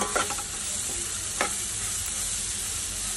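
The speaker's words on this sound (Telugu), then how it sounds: "తర్వాత ఇందులో బీట్రూట్ వేసుకొని కలుపుకోవాలి." Beetroot being stirred into onions frying in a pan, with a steady close sizzle under a few scraping stirs of a spoon against the pan near the start.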